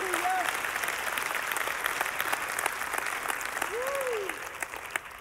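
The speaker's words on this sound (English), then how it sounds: "Let's give them a round of applause" A church congregation gives a dense, sustained round of applause that stays at a steady level before tapering slightly near the end, with a voice briefly heard over it.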